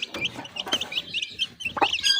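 Shamo chicks and hens cluck close by in short, irregular bursts of chirpy clucks and squawks, fairly loud and free of talk.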